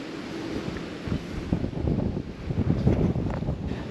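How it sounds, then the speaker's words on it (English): Steady wind gusting across a shallow bream-fishing water, with rumbling microphone buffeting and a hint of lapping water, swelling louder toward the end. "that wind is blowing"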